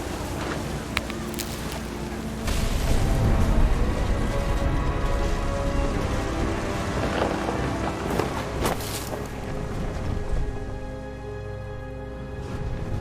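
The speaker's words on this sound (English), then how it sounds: "The thunder sounded much too close and full of angry power." Thunderstorm in the video game What Remains of Edith Finch: continuous heavy rain and wind noise, rising in intensity after a couple of seconds, with occasional sharp cracks and low rumbles of thunder, no voices.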